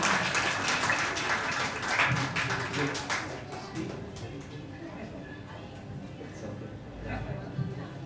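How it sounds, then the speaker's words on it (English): Audience applause at a children's event honoring a doctor, a burst of dense clapping that thins and fades over several seconds, with voices and some background talk mixed in. "So big round of applause for Dr."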